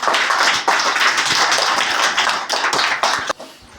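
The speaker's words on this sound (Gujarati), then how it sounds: "અવિનાશ માટે તાળી પાડી જો એકવાર" A group of primary schoolchildren in a classroom claps for a classmate, a burst of quick, uneven applause that continues and then tapers off near the end.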